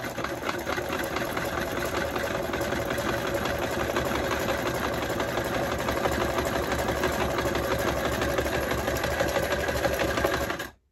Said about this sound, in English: I'm just gonna use a zigzag stitch right through the two.